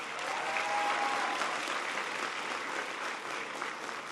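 Audience at an event at P-TECH school applauds steadily for a congressional delegation, a dense, sustained wash of clapping that fills the whole stretch and fades slightly toward the end.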